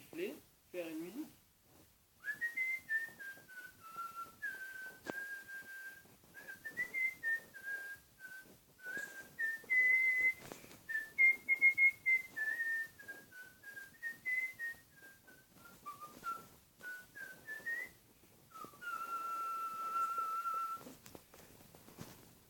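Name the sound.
person whistling a tune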